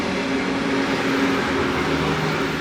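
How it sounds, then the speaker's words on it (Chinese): A yellow train passes through the seaside town of Onomichi, Japan, its steady rumble and rail noise holding at an even, fairly close level throughout with no talking. "黄色的火车"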